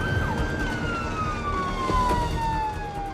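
A wailing ambulance siren sweeps steadily downward in pitch, loud and continuous over the rumble of motorway traffic.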